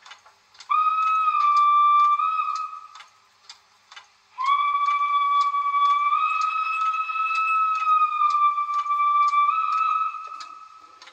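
Two long, shrill whistle blasts from an ESU model 232 TC steam locomotive, with a steady multi-tone pitch, separated by a short pause, accompanied by light rhythmic ticking and clicking underneath.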